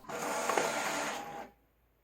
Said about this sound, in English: I'll show you printing on the printer now